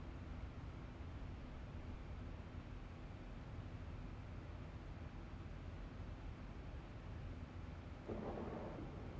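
Thunder in the X-Plane 11 flight simulator, a continuous deep rumble with rain-like noise beneath it, steady and distant throughout, with a slight swell near the end.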